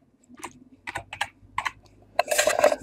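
Quick bursts of typing on a computer keyboard, close and crisp, with irregular clusters of key clicks ending in a faster, busier flurry.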